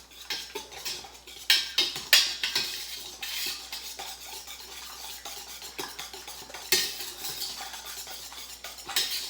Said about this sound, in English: And I'll take my whisk and I'll mix that in.